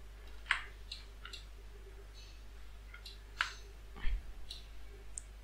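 Keyboard shortcut keys are pressed while modelling in 3ds Max, giving a handful of quiet, separate clicks and taps spaced irregularly over a low steady hum.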